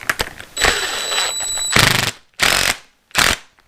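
Bursts of rapid mechanical rattling, like an impact wrench, as a bolt is driven back into the new front fork of a Suzuki TS185 motorcycle; a long loud run, then two short separate bursts.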